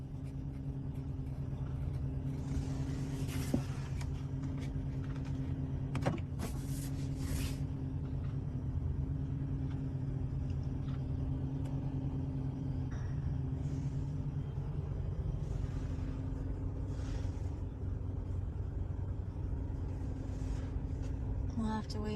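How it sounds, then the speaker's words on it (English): A truck on a forest road, a steady low engine rumble at a distance that holds throughout, with scattered louder bumps and knocks and some voices speaking over it. "It is a truck coming right on down this way again."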